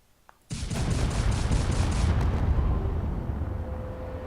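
A video-game cannon fires at heavy ship armor: a sharp blast breaks a quiet moment, then a dense rapid volley of impacts rumbles on loudly before slowly fading, with no talk.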